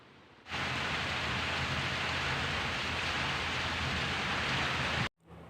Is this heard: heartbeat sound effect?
no